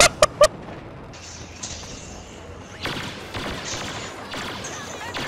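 Blaster fire in a Star Wars Battlefront match: a few sharp close shots at the start, then scattered distant bursts and explosions under a rushing battle ambience.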